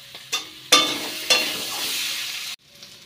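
Meat curry sautéing in a pan with chilli powder and meat masala, a steady close sizzle broken by a few sharp stirring bursts, then cutting off abruptly near the end.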